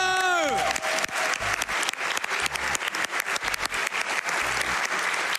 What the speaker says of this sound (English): let's clap for him one more time.